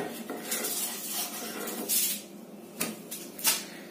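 A metal spatula scrapes and lifts an egg dosa on a hot pan, with a few short, sharp scraping strokes spaced a second or so apart over a soft background hiss.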